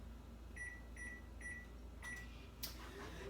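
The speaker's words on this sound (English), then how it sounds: "we're going to go back in the microwave and let that get melted" A microwave oven melting chocolate hums faintly and steadily, giving four short electronic beeps followed by a soft clunk, all quiet with no talking.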